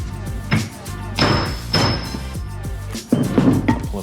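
Several heavy metallic bangs from a big hammer driving a bearing out of a KEB 750 single belt press, separated by short pauses, loud and close with ringing after each blow.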